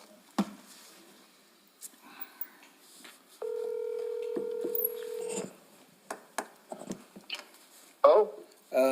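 Phone number dialed on a speakerphone at a council meeting: a burst of steady electronic keypad tones lasting about two seconds, clear and near, surrounded by soft room bumps and brief rustling, with a chirpy ring tone at the end.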